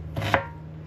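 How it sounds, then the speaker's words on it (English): A knife cuts through half an onion on a board, one or two sharp, close chopping thuds in under a second, with no speech. "I might just chop up half an onion"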